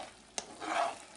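Fried corn is stirred in a pan as it thickens, giving a soft scrape of the spoon followed by a gentle sizzling swell, close and quiet with no talking.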